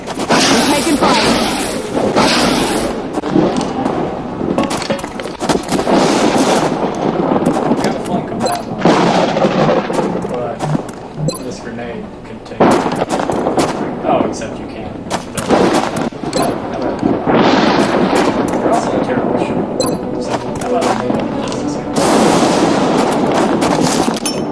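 Gunfire in the XCOM Long War game rings out as dense, repeated loud shots and booms in quick succession, with brief lulls, with a voice talking over the battle at times.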